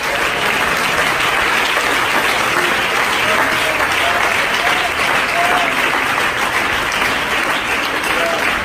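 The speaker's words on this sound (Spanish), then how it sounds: "Denle ese aplauso al Señor" Church congregation applauding during a Spanish-language sermon, a loud, dense, steady wash of clapping that fills the whole stretch without pause, with faint voices mixed underneath.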